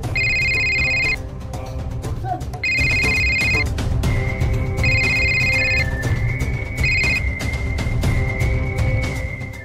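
A phone rings in repeated electronic bursts, four evenly spaced rings over a steady background hum, with a sustained tone lingering between them, in a TV drama scene.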